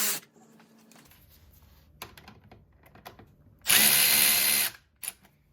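A ratchet with an 8 mm socket loosens an alternator bolt on a 3.6L Jeep Wrangler JK. Faint scattered clicks and taps come first, then a loud whirring burst of about a second, and a few more clicks follow.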